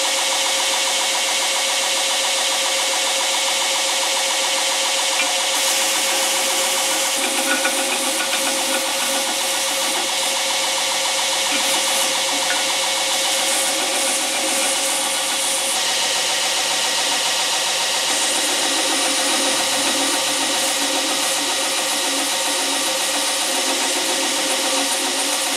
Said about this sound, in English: I will just go to the grinder and shape the front of the bolster there